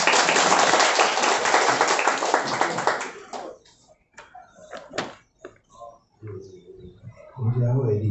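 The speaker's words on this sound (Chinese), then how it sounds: "掌声鼓励。" Audience at a book-signing event bursts into loud applause for about three seconds, then it breaks off into scattered claps and room noise with some voices.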